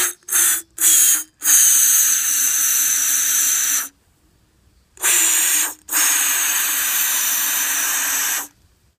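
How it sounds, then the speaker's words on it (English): Aerosol fogging oil hisses into an outboard boat motor's spark plug holes in several bursts: three short puffs, then two long sustained sprays with a pause between, close and loud. "Grab the fogging spray and spray into the holes where the spark plug goes in."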